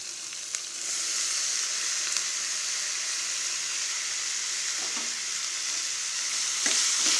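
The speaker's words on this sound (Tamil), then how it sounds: "இப்போ நம்ம அரிஞ்சு வச்சுருக்க இந்த நீர் பூசணிக்காயை அதில் போட்டுக்கலாம்." Ash gourd being sautéed with onion and tomato in a pan for sambar, giving a loud, steady hiss of frying that runs throughout, with a few soft knocks of a spoon, close and alone.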